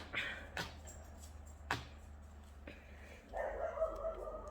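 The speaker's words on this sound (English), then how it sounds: "Sorry about the barking in the background" A dog barks a few times in the background through an open back door, short sharp yaps spaced apart, with a louder stretch of noise near the end.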